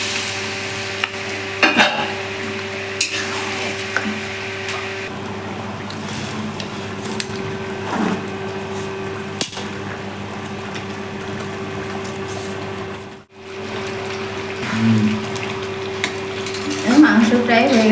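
Hot water goes into a pan of chicken kosha cooking on the stove, with a steady low sizzle under scattered clinks and stirring scrapes, and a louder hiss and bubbling near the end.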